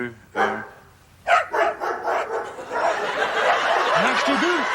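Two dogs give a quick run of sharp barks up close, followed by a noisy stretch of overlapping yelps and chatter with laughter in the background.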